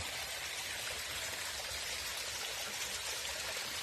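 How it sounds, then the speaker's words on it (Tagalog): A small mountain stream with clear water flows steadily nearby, a constant bright babbling and trickling wash of water with no voices. "yung maliliit na sapa ba yan oh yan yung linis ng tubig oh malinaw yan"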